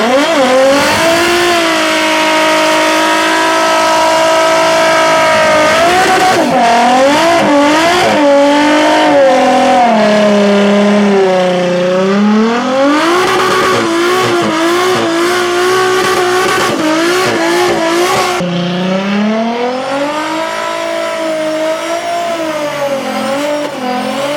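Car drifting: a loud engine revs up and down repeatedly with rising and falling pitch sweeps while tires squeal and skid, continuous and close for the whole stretch.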